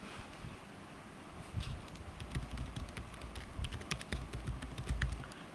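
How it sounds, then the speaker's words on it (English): Someone types code on a computer keyboard during a Swift programming lesson, a quiet run of irregular key clicks over a faint background hiss. "Let me just type that in."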